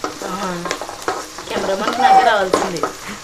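Green chillies and onions fry in oil while being stirred, a close sizzle and scraping running under a voice talking throughout.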